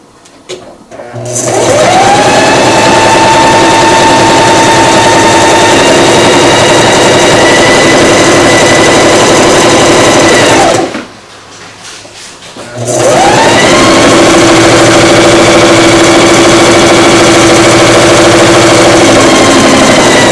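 A sewing machine stitches a canoe-style stocking seam with a loud, steady whirring drone close by, halts briefly for about two seconds, then starts up again and runs on evenly.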